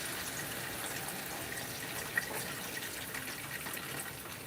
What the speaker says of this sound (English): I have some juice from my soup here. I'm gonna pour it.